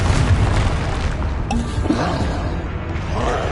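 A Confringo blasting spell in Hogwarts Legacy bursts with a dense, rumbling explosive boom, a sharp crackle near the middle and a decaying low roar afterward, loud and close with no talking.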